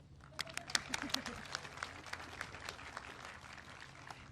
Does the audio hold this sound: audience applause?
yes